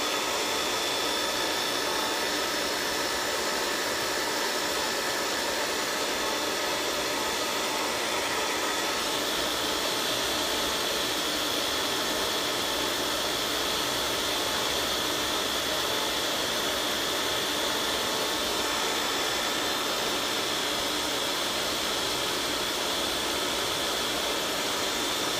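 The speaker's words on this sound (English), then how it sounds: "As you can see, I am not experienced with a blow dryer." A blow dryer runs at a very high setting, a loud steady roaring whoosh that holds without a break for the whole stretch, with no voices over it.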